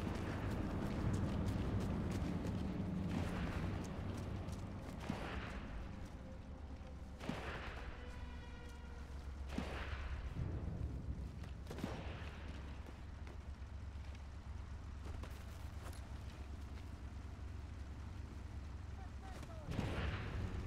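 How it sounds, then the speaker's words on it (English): Gunfire in a video game: scattered distant shots and booming reports crack intermittently over a steady low background rumble, faint overall, with no talk. "Somebody is shooting."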